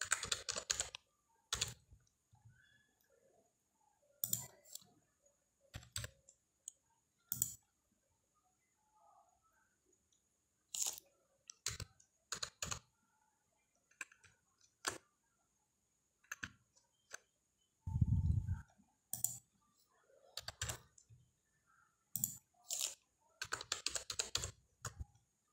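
Keys tapped on a computer keyboard while entering text into a PDF form in Adobe Acrobat Pro DC, short irregular bursts of close, quiet clicks separated by silent pauses.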